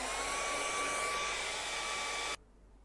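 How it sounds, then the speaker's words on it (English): Hair dryer blowing steadily over fresh acrylic paint on a mountain landscape canvas, a loud constant whine with a faint tonal hum that cuts off abruptly near the end, leaving near silence. "We'll blow dry that."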